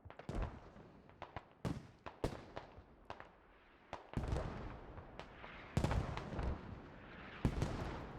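Mortar fire in the tactical shooter Squad, with scattered sharp distant-sounding cracks and thumps at irregular intervals over a rumbling battlefield background.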